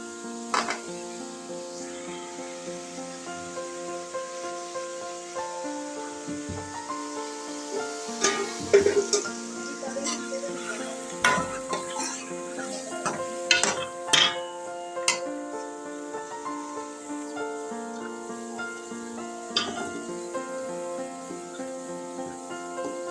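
Chicken and onions fry together in a pan for aloo gosht, giving a steady low sizzle with scattered clacks of stirring against soft tonal background music.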